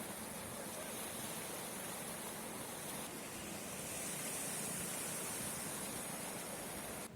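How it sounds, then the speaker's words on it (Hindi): Floodwater after heavy rain in Haldwani rushes past in a steady, dense roar, close and continuous, swelling slightly toward the end with no voices. "तेज बारिश का बहाव तेज है, पानी घर में घुस चुका है"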